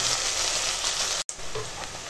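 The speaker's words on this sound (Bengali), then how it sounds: "এখন পেঁয়াজটাও সুন্দর করে ভাজবো" Onions fry in hot oil in a pan with bay leaf, a steady close sizzle with crackling hiss that cuts out for a moment midway before resuming, no talking.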